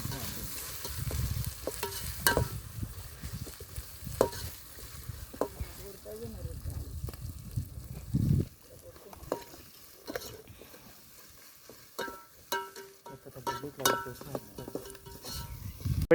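Chicken pieces stirred and frying in a pot over an outdoor forest fire, with ginger-garlic paste already added. A steady sizzle runs throughout, broken by scraping spoon clatters against the pot, louder and denser in the first half.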